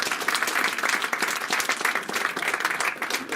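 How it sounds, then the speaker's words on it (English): Steady room applause from a seminar audience, dense clapping sustained at even loudness throughout with no voices over it. "A round of applause to that."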